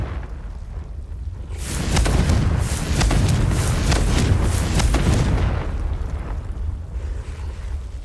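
A Confringo fire spell explodes in Hogwarts Legacy, a loud booming blast that swells and rumbles for several seconds with crackling bursts before fading.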